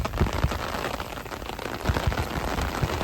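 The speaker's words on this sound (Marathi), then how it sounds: "परत पाऊस आलेला आहे." Rain pours down outdoors beside a lake during a motorbike trip, a steady, dense hiss of drops striking surfaces nearby, with a few louder splatters and no voices.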